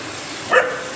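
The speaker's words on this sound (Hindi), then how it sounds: "ये देखो कैसे देख देख के बाहर जो है भौंक रहा है" A single short dog bark or yelp from a dog indoors reacting to something outside, brief and moderately loud against a quiet room.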